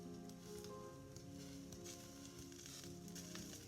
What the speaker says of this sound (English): I flicked the water onto the skillet and it sizzled